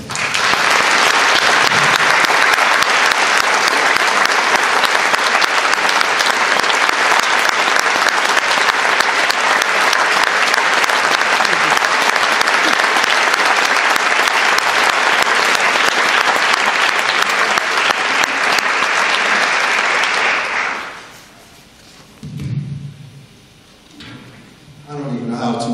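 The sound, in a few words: audience applause welcoming Craig Bailey to the stage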